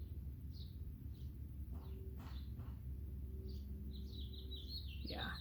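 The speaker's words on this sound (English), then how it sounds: "Can you hear the birds?" Birds sing outdoors in Arizona on a spring day, giving faint, scattered chirps and a short trilling run near the end over a low background rumble.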